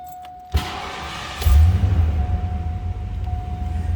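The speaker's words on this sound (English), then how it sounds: "Let's go ahead and fire it up. Listen to that 5-liter." A 1989 Ford Mustang LX convertible with a 5.0-liter V8 cranks briefly, then fires and settles into a deep, rumbling idle, close and steady after the start.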